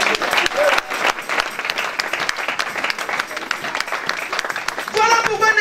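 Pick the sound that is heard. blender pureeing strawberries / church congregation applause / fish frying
church congregation applause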